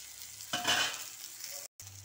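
Paneer stirred in a hot frying pan: a scraping, sizzling stir swells for about a second over a steady fry, then fades back to a low sizzle.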